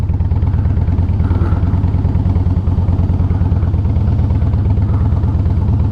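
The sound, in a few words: Harley-Davidson Softail motorcycle engine running while riding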